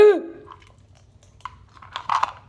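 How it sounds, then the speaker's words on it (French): Soft, close gum chewing with small wet smacks and clicks, intermittent over a quiet background after a brief tonal blip at the start. "si vous entendez, c'est moi, je prends des chewing-gums."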